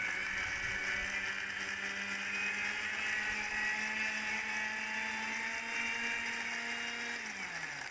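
A mixer grinder whirs steadily, blending a pink vanilla ice cream drink with ice, its motor drone holding loud and continuous before the pitch drops as it slows near the end.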